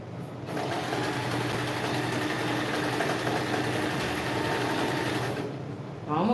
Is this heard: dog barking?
no